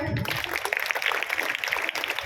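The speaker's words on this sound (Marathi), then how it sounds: "श्री वसंत शिंदे सर यांच्यासाठी जोरदार टाळ्या" A seminar audience at a coaching-class event breaks into brief, loud clapping for a guest speaker, with a voice mixed in over it.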